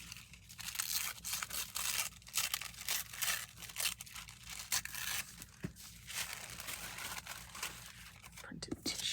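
Printed tissue paper being torn into small pieces by hand, giving soft repeated rips and crinkles close by, with a person's whispery voice faintly underneath.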